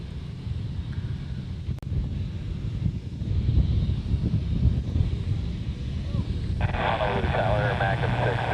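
A jet airliner takes off from Honolulu's runway 8 right, a broad low roar building under wind buffeting on the microphone, with a brighter engine whine rising near the end.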